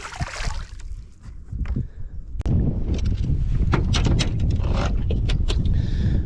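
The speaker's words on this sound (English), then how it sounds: "you can probably hear it and see it. The wind is blowing" Gusty wind buffets the microphone on a lake during a fishing trip, a loud rumbling roar that swells and stays constant with scattered knocks and light splashing, no voices.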